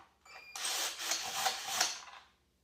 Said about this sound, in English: we're going to pop these little Allen key bolts out.